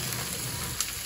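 Onions and crushed turkey berries sautéing in a pan, a short burst of steady, hissing sizzle heard up close.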